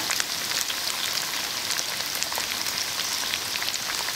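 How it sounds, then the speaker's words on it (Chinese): Chili bean paste and fermented black beans stir-fry in a wok, crackling in a dense, steady sizzle with scattered sharp pops, close and alone without any voices. "这豆瓣酱和豆豉呢，一定要炒出香味来"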